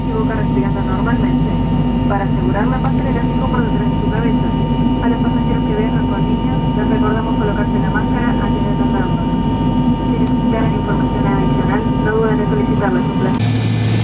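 Steady loud drone of a LAN airliner cabin in flight from Iguazu to Buenos Aires, constant engine roar throughout with people talking in the background.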